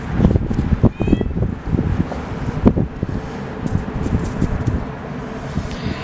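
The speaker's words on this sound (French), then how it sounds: "le chat vous parle" A cat meows a few times against heavy, gusty wind rumbling across the microphone.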